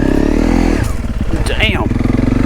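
A Honda CRF 300 Rally motorcycle on a sandy trail, its engine droning loudly and steadily with a rising rev partway through, heard up close with wind noise and no windscreen.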